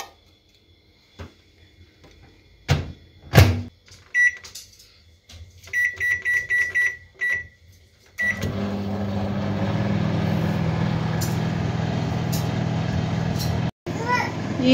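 A home microwave oven in a kitchen: several beeps while it is set, then a steady loud hum as it runs, with someone talking nearby and a brief stop near the end.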